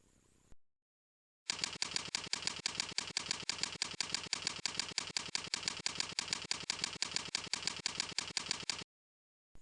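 Rapid keystrokes on a computer keyboard as a command for a cPanel DNS-only installer is typed, a steady clattering run of many close, crisp clicks with brief pauses, heard alone.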